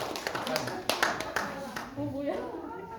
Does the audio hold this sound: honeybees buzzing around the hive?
no